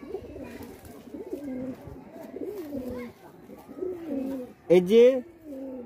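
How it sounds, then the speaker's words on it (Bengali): A pigeon at a Bengali high-flying kobutor loft coos in repeated low, rolling phrases at close range, with a person briefly speaking near the end. "আমি আপনাদের আরেকটা পায়রা দেখাচ্ছি"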